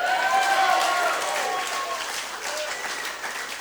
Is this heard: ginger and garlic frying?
no